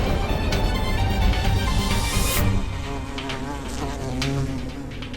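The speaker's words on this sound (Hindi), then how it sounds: "महेशपति की मधुमक्खी इनके शरीर के अंदर है, उसे बाहर निकाल कर मारना होगा," A bee buzzes steadily and close in a dramatic TV scene, its insistent drone shifting slightly in pitch amid a busy music and effects backdrop.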